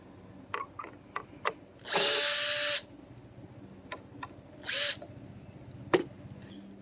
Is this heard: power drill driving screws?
yes